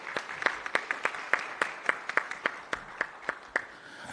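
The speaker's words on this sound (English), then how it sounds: "Please join me in a round of applause for our panelists." A sparse round of applause for a conference panel, with a handful of sharp, separate claps in a loose rhythm that sounds like only a few people in a quiet room.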